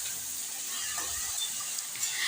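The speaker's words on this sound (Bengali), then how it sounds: "গরম সর্ষে তেলে কালো জিরা ফোড়ন দিয়ে শাক, কেটে রাখা শাকগুলো সবগুলো দিয়ে পরিমাণ মতো লবণ, হলুদ দিয়ে ভালো করে নাড়িয়ে নেওয়া হচ্ছে" Leafy greens stir-frying in hot mustard oil tempered with nigella seeds give off a steady, close sizzling hiss that holds evenly throughout, with faint scraping from stirring.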